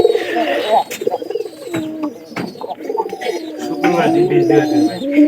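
Sylhet-breed pigeons coo repeatedly nearby in soft, throaty rolling calls, with a voice speaking intermittently over them.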